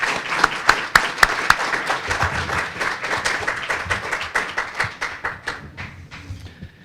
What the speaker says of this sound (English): I'd like for you to give them a round of applause for their dedication to this program